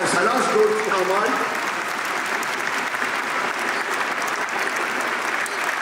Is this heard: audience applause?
yes